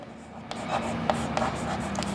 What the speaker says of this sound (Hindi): तो मैं इसको यहाँ लिख देता हूँ